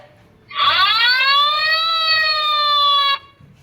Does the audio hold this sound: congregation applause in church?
no